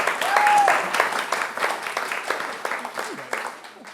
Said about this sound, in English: always good to get a round of applause when you haven't done anything yet